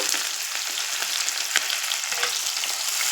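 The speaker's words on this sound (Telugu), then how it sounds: "వేసుకొని మిక్స్ చేసుకున్నాక బాగా ఫ్రై అవ్వాలండి బాగా ఫ్రై చేయండి" Onions and green chillies fry in a pan as the base for a fish curry, producing a loud, continuous, close-up crackling sizzle with occasional stirring scrapes and no speech.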